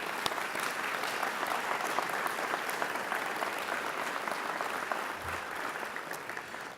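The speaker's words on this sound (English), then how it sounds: "give a round of applause and appreciation for the faculty of this program" Sustained applause from a large crowd for the faculty at a McCombs School of Business commencement, steady and even throughout, clapping filling the room with no one speaking.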